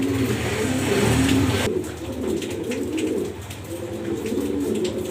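A German Beauty pigeon coos in soft repeated throaty rolls, close by and continuous, with faint background hum and no voices.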